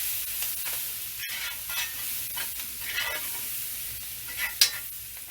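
Garlic and thyme sizzle steadily in a hot pan while being stirred, a constant close hiss with scraping and a few light knocks from the spoon, no talking.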